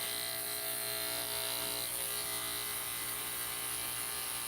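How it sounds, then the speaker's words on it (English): An electric clipper trims dog hair during a grooming session, working through knots with a steady, close, continuous buzzing hum that holds without any talk. "flipping my clipper around"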